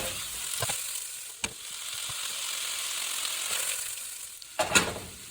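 Chicken pieces fry in a pan on a stove turned nearly to high, a steady hiss of sizzling oil punctuated by a few sharp clatters as the pieces are stirred or moved.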